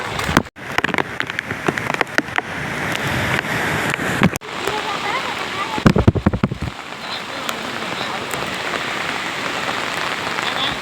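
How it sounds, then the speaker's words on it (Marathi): Continuous monsoon rain pours down in Mumbai on a hillside near a waterfall, a steady dense hiss with scattered close drips and brief louder splashes, keeping up without a break. "कारण का कंटिन्यू पाऊस पडतोय मुंबईत"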